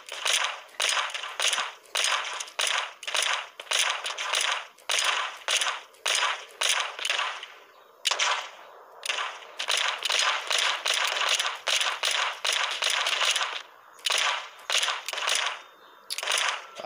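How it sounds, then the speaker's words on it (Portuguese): Rapid gunfire in the game Deadrite Hunt, repeated bursts of crackling shots broken by short pauses, loud and close throughout. "Atira, man. É só ficar atirando."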